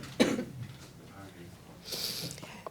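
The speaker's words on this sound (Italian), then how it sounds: "c'è un attacco di tosse" A person in a coughing fit lets out a sharp, loud cough near the start, followed by rough throat noises and quieter breathy sounds, with a voice present.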